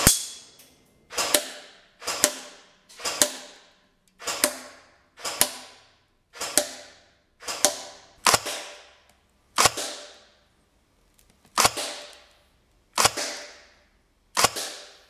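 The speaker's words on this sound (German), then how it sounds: "gehe jetzt auf 20 Meter und schieße dann auch nochmal ein paar Schuss dementsprechend mit dem Bipod" Shots from an Ares OTTO REPA airsoft rifle fired off a bipod at 20 m, a dozen sharp single cracks spaced about a second apart, each with a short fading tail, loud and near.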